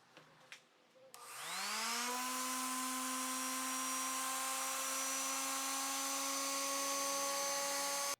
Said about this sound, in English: I'll continue to work my way from the 180 up to the 220 finishing grit sandpaper, making sure I get the whole surface nice and smooth